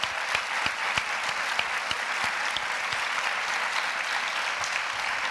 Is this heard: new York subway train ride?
no